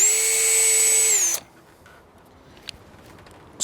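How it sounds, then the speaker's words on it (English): A power drill whirs loudly for about a second and a half while drilling out a hole in a vinyl fence, then cuts off abruptly, leaving quiet with a few faint clicks. "just drill that out. I'm gonna drill one in this side."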